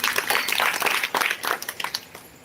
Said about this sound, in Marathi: मानासाठी जोरदार टाळी.